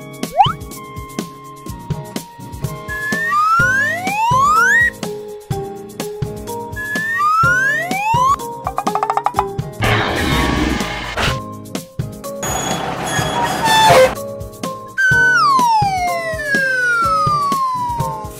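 Ambulance siren in a children's vehicle cartoon, repeated rising and falling wails in several bursts mixed with playful sound effects and music, loud and close.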